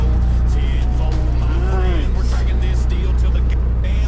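A truck pulling a loaded intermodal container trailer reverses away on a cold day, its diesel engine a loud, steady low rumble close by, with faint speech heard partway through.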